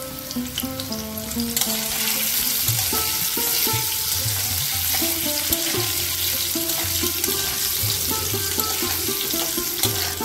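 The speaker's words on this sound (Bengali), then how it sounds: "এবারে কেটে রাখা আলুগুলো আমি ভেজে নেব।" Cut potatoes frying in oil with a pinch of turmeric, a loud, steady sizzle running throughout, close up, with occasional stirring and background tonal sounds underneath, no talking.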